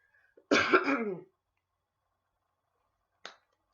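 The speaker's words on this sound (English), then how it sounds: "Trying to clear my throat a little bit before I continue" A single rough throat clearing, close and fairly loud, followed by a brief pause and a short faint click or sniff.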